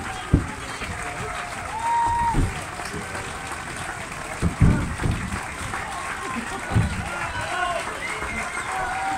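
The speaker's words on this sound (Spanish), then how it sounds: "así que doble aplauso fuerte para Fede Lazzarini" Audience applause follows a jazz orchestra's set at an outdoor street jazz festival, a steady wash of clapping from a sizable crowd that continues throughout with a few louder thumps and a voice over it.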